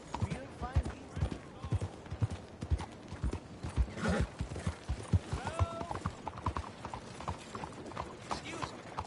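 Horse hooves in Red Dead Redemption 2, played first-person on PS4, clip-clop in a steady, close rhythm for several seconds, with a horse whinny and voices talking over the trotting.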